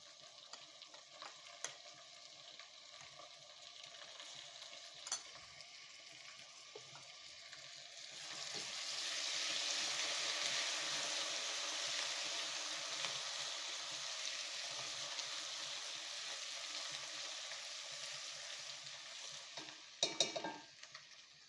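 Onion with garlic and ginger paste fries in a pan, a soft continuous sizzle that swells midway, with occasional stirring scrapes and a clatter near the end.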